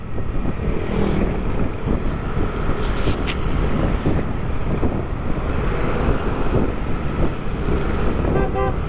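Vehicle horns toot in a motorcade on a windy street, short honks and a few repeated beeps standing out over steady wind buffeting and traffic rumble.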